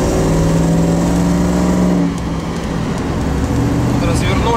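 GAZ Sobol 4x4 van with a Toyota 1UZ-FE V8, a Toyota Grand Hi-Ace transfer case and big wheels, cruising at 80 km/h; a steady engine and road drone fills the cabin while someone talks over it.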